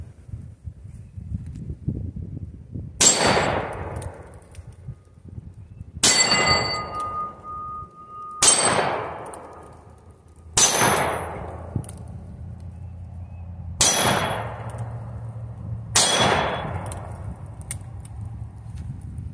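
A Colt .357 Magnum revolver fires 158-grain rounds at steel targets outdoors: six sharp, loud shots spaced a few seconds apart, each ringing briefly with a metallic clang as the steel is hit.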